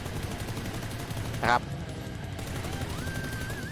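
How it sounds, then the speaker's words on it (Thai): A brief, sharp volley of rapid gunfire from a PUBG weapon spraying without attachments, a single short burst standing out above steady background game ambience and music. "ผมยิงแบบไม่มีของแต่งเดี๋ยวให้ดูก่อนนี่ฮะไม่มีของแต่ง"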